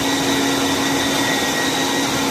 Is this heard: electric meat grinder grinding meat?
yes